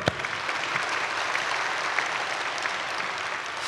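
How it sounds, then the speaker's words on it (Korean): Sustained applause in a Korean church service as the congregation claps together, dense and even for nearly four seconds with no voices. "우리 하나님 앞에 영광의 박수."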